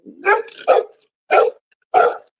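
A dog barks four times in the room, sharp close yaps in an uneven rhythm with short pauses between them, loud against a quiet background.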